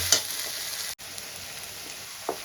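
A paste of ginger, garlic and green chilli, made for doi chicken, hits a hot frying pan. A loud, close, steady sizzle cuts off briefly, then continues, broken by a small stirring clack.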